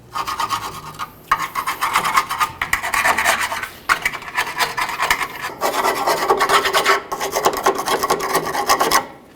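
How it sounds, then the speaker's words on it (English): Harsh, rasping scrubbing on the lower control arm mounting points of a 1998-2011 Ford Ranger, in close, continuous strokes with a few short pauses over about nine seconds, no talking. "the next thing that we need to do is clean and inspect all of our mounting points"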